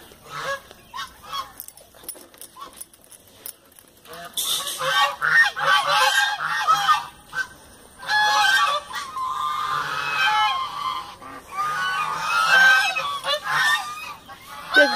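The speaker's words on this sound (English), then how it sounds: "I told you there's a lot of ducks." Many geese and ducks honk and squawk at a country farm in the morning, with sparse calls at first, then a loud, dense chorus of overlapping honks nearby.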